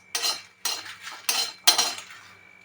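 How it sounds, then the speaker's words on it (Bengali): A metal spoon scrapes and clinks against a pan in four distinct strokes while spices dry roast without oil for a grated mango pickle masala, with quiet gaps between strokes. "সব মশলাগুলো কিন্তু ড্রাই রোস্ট হবে বন্ধুরা"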